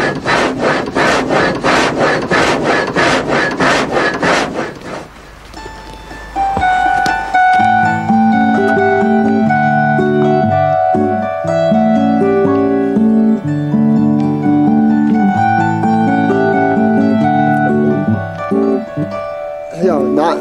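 An old flywheel-driven sawmill saw cuts through wood in a fast, rhythmic rasp, then gives way to a sustained, tonal machine hum that continues for the rest of the stretch, loud and close.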